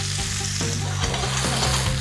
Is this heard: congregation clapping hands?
no